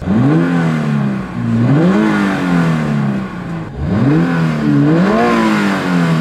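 Engine of a 2022 Subaru BRZ revving up and down in two rising sweeps, heard from inside the car with part of the sound piped through the cabin speakers; loud and continuous with no talking.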